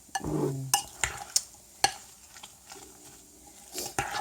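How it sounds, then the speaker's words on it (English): Spinach being stirred into a cooking pan, with a utensil scraping and clinking against the pan in scattered bursts, plus soft sizzling underneath, close and fairly quiet. "you just stir all that in there now, just to make it really yummy."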